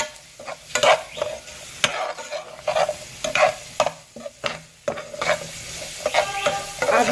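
Chicken and vegetables with spices stir-fried in a pan, rhythmic loud scraping and clattering strokes of a spatula over a continuous sizzle, close and busy.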